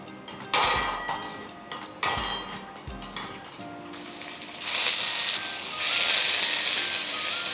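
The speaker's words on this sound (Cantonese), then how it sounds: "咁首先我哋煎咗啲豆腐先" Tofu frying in a thick iron wok gives a steady broadband sizzle that swells louder in the second half, after several sharp metallic clinks and knocks of utensils against the pan near the start.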